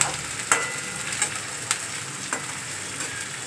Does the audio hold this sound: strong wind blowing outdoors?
no